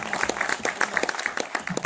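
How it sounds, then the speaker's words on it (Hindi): An audience claps together at a Hindi poetry recital held for a Shri Krishna festival, a brief burst of steady, fairly close applause with little else heard. "अगर आपको वास्तव में अच्छा लग रहा है तो एक बार ताली बजाकर मुझे ये बता दीजिए"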